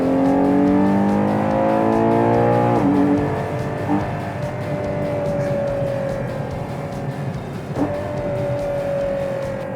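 A Ferrari Purosangue's naturally aspirated 6.5-litre V12 roars at high revs. Its pitch slides downward, with brief breaks like gear shifts, and it stays loud and close throughout.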